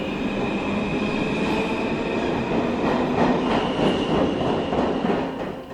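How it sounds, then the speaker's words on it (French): A subway train rumbles steadily along the tracks with rhythmic clickety-clack and faint wheel squeal, loud and continuous throughout. "Les wagons du métro sillonnent le sous-sol moite,"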